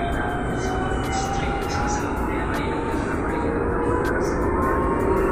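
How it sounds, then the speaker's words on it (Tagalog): Steady rumbling interior noise of an MRT train in motion in Manila, a continuous loud drone with faint higher whine and no pauses. "Sumakay na ako ng MRT."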